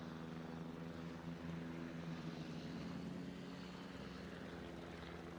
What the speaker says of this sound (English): Have you noticed the British rocket planes fly higher than the Americans?